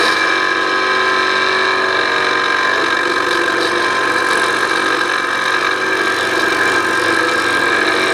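A segmented wood blank turns on a lathe under a 3/4 bowl gouge, a steady loud whirring hum with a continuous scraping hiss of the cut, unbroken throughout.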